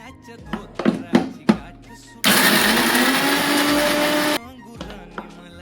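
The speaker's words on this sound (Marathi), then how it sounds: "आपण आता ते मिश्रण पण आता हे सगळं मिक्सरमध्ये पाणी घालून बारीक वाटून घेऊ" An electric mixer grinds green chilli, ginger and garlic with water in a loud, steady whirring burst of about two seconds, with someone talking before and after it.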